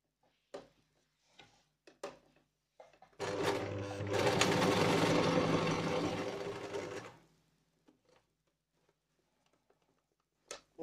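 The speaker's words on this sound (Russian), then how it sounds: "Ну и это дело начинаем зашивать." A sewing machine runs steadily for about four seconds, stitching a seam on a fabric hair scrunchie, with quiet ticks and handling before and after.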